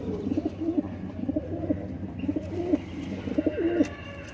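Breeder pigeons coo in a repeated rolling pattern, four clear bouts spaced about a second apart, close and moderately loud over a low background hum.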